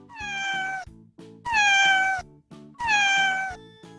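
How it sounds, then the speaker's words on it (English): A cat meows three times in a row, each call loud, close and drawn out, with short pauses between them and no other sounds. "cat"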